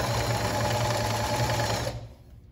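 Sewing machine running steadily to stitch a dish towel trim, a continuous close whir that cuts off near the end and fades.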